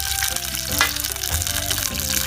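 Hot oil sizzles and crackles steadily in a pan as potatoes fry, a close, continuous hiss with bright popping throughout and no talking.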